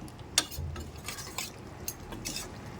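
Chicken liver (kaleji) being stir-fried in green masala, with soft, intermittent scraping and stirring clicks of a spoon in the pan alongside a faint background sizzle, quiet and close.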